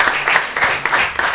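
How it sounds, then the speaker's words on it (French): Applause from an audience at a school event between Lycée Classique and Jardin des Frères et Sœurs Musulmans, with a steady dense patter of clapping and periodic louder swells through the whole stretch. "On applaudit."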